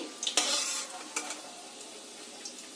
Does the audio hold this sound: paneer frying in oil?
yes